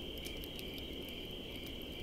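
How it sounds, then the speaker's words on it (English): A short stretch of crickets trilling steadily, a faint continuous high chirping chorus with a few brief sharper pulses and no voices. "Crickets. Crickets."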